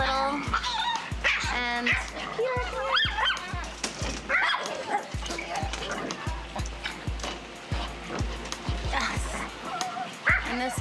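Several small dogs in a dog house, including a chihuahua, bark, yip and whimper excitedly throughout while someone talks over them close by.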